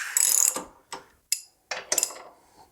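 A hand ratchet undoes a bolt on the shock of an Indian Scout Sixty motorcycle, a close run of rapid clicking followed by several short separate ratcheting bursts and a few quiet pauses.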